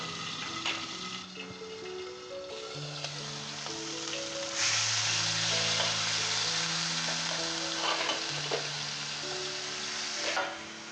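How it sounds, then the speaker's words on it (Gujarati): Onion paste hits hot oil in a covered pan while cooking okra curry, a bright sizzle that swells midway and holds steady, with soft background music tones underneath. "અહીંયા એક મીડિયમ સાઇઝની ડુંગળીની પેસ્ટ કરીને રાખેલી છે, તેલમાં નાખી દઈશું અને તરત જ ઢાંકણ ઢાંકી દઈશું"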